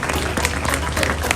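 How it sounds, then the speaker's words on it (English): Audience applause at a YouTube creators' event in Lagos, a brief, loud burst of close clapping with a low hum underneath and some crowd noise mixed in. "Can we give a round of applause for the government?"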